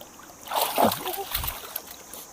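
Shara, a dog being bathed, makes a short splashing slosh of water near the start. Quieter water movement and faint background noise follow.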